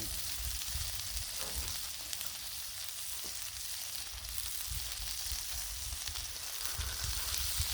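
Turkey burgers sizzle loudly and steadily on a Blackstone griddle, a dense continuous crackle with no one speaking.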